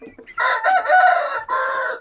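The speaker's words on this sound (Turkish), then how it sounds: "Şu da horozumuz." A rooster crows once up close, a loud, strained cock-a-doodle-doo lasting a couple of seconds.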